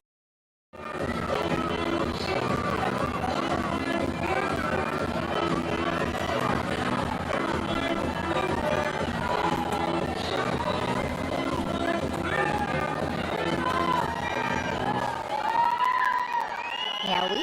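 A large, dense stadium crowd at a Pakistan versus Bangladesh test cricket match roars and cheers continuously, with whistles and shouts rising above the din and a commentator's voice faintly woven in.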